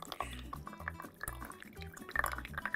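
Water draining through a small hole in a plastic pizza shop toy: soft, faint drips and trickles with bright little plinks, irregular over a few seconds, with low background rumble and no clear speech.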